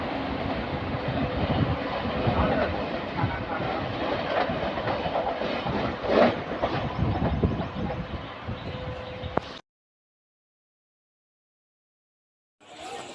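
A push-pull train runs through a railway station, giving a loud continuous rumble and rattle of wheels and carriages that cuts off abruptly, followed by a few seconds of silence.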